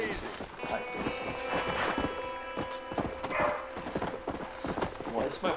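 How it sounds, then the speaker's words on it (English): Horse hooves clip-clop in a steady riding rhythm in the video game Red Dead Redemption, regular clear thuds moving along at a trot alongside occasional game sounds. "Why is my horse riding so shit in this game?"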